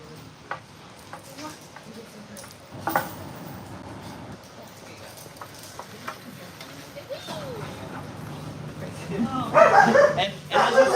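Dogs bark and yip intermittently during slatmill training sessions, short sharp barks and a whimper scattered under ongoing talk, with louder barking near the end.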